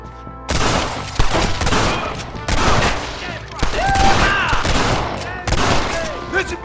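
A shootout in the video game Red Dead Redemption: loud, dense bursts of gunfire and booming shots rattle in rapid succession, mixed with shouted in-game voices.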